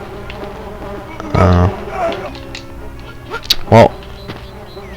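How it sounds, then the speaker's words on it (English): In a video game, bees buzz in two loud close bursts around a speaking voice, the swarm drone rising sharply and cutting off, with other game sounds low behind. "No, not the bees! I'm allergic to bees!"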